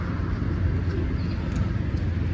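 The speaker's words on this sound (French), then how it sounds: "Il y a encore une voiture qui passe." Car passing on a nearby road gives a steady low rumble of engine and tyre noise, loud and continuous throughout without any talk.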